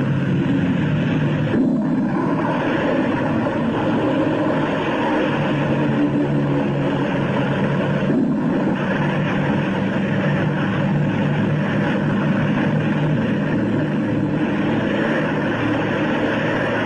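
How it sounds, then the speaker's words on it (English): Propeller aircraft engines drone steadily as planes take off from an aircraft carrier in darkness ahead of an Antarctic storm, a dense continuous roar with no voices over it. "They must risk a takeoff in darkness before the terror of the storm strikes."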